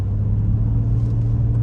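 A 1989 BMW 735i long-wheelbase sedan with a 3.5-liter straight-six and very low miles drones with a steady, deep engine rumble while driving, heard close and continuous with no talking.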